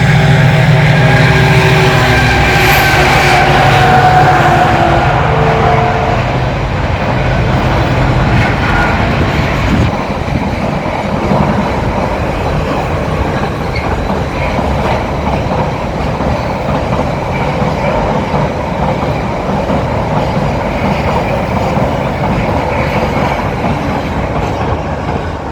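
A freight train rolls past on the Great Western Main Line, a steady, loud rumble of wagons with rhythmic clickety-clack that holds for the whole stretch, close by and unbroken, with no voices.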